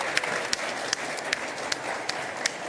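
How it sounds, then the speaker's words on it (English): Applause from an audience at a museum education event, steady dense clapping with a few sharper individual claps standing out, moderately distant and without talk. "Give them a round of applause."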